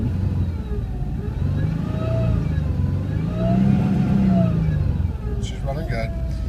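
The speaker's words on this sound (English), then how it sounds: "Give a little gas here." A 2003 Ford Escape with a 3.0 engine revving in a wrecking-yard engine test, a steady idle rumble swelling into two rising revs, with a voice talking over it.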